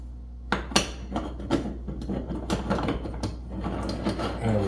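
Metal top being screwed onto the base of a Bialetti Moka stovetop coffee maker in a kitchen, giving a run of close clicks, taps and scraping metal contacts over a steady low hum, with no talking.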